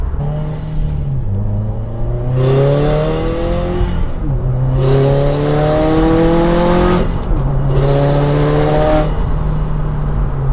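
A 2015 Subaru WRX STI accelerates hard, its engine note climbing steadily through several gear pulls with brief dips at each shift, loud and close with no talking.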